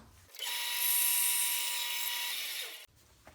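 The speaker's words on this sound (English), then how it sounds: "I just drilled a quick hole at the end here" Power drill boring a relief hole into the end of a wooden mallet head, one continuous high whine that spins up, holds steady for over two seconds close to the mic, then stops abruptly.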